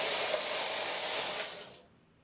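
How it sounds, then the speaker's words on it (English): A knitting machine carriage sweeps across the needle bed knitting a single row of a hooded scarf, a steady close whir that carries for under two seconds and then cuts off. "knit one row"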